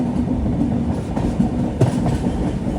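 The Mangala Express passes on the line near Shoranur Junction with a steady, close rumble of rolling wheels and a faint rhythmic clatter, heard alone without voices.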